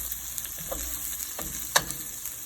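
French toast omelette frying in a pan, a steady close sizzle with faint crackles and a couple of brief scraping clicks from a utensil, heard alone.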